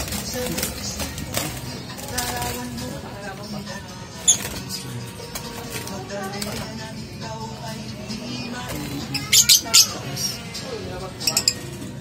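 Parrots of several kinds kept in a cage give scattered, brief high chirps and squeaks, a few sharper calls standing out, all under people talking nearby.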